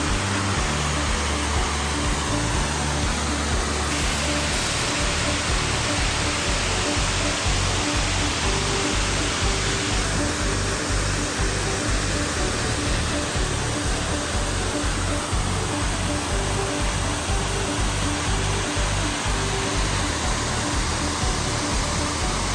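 A forest waterfall in the USA among very tall trees gives a loud, continuous broadband roar of falling water that stays steady and unbroken throughout.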